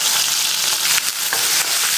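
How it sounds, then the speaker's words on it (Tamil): Shallots and curry leaves fry in a hot stone pot, giving a loud, continuous hiss and crackle with small pops and faint stirring scrapes. "வெங்காயம் நல்லா வதக்கிக்கோங்க."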